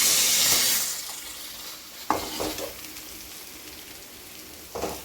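A spatula stirs crumbled chapati with spices in a hot pan, giving a steady sizzling hiss and occasional scraping swishes, close and moderately loud, with no talking.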